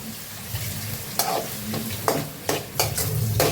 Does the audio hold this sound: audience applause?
no